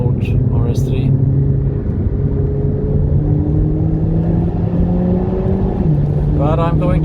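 An Alpine A110 is driven hard on a race track, its engine climbing steadily in pitch through long pulls, with a shift near the end and loud, close, continuous engine roar.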